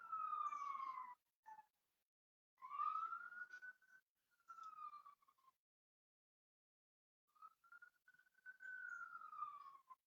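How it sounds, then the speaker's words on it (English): An emergency siren wails in long rising and falling sweeps, broken by silent gaps, sounding clear but fairly distant with nothing else audible. "Just listening to the sirens."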